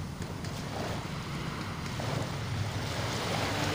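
Calm sea lapping at a Philippine beach shore, a steady soft wash of small waves with faint wind rumble, constant and close with no talk.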